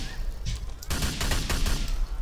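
Bursts of gunfire in Grand Theft Auto IV, a rapid string of loud, close shots with a voice heard underneath.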